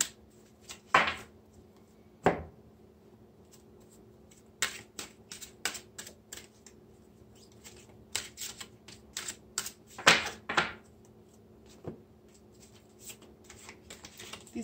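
Quick riffling and tapping of cards, several short bursts spaced through the clip, close by and fairly quiet.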